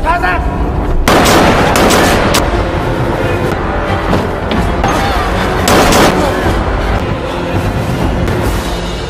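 Loud pistol gunshots crack out in a quick series over a dense, noisy Rambo movie action scene, with booming impacts and a cinematic rumble throughout.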